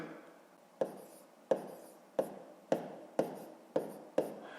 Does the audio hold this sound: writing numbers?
yes